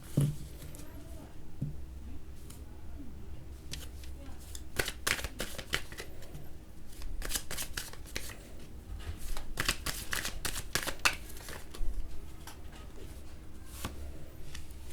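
Tarot cards shuffled by hand in a series of crisp riffling bursts and flicks, some rapid clusters, heard close over a quiet room with occasional speech.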